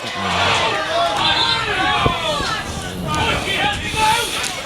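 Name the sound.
excited crowd at a hockey cup final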